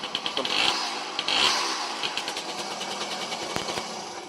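A small two-stroke Jawa motorcycle engine idles nearby with a rapid, buzzy putter, dipping briefly now and then before steadying again.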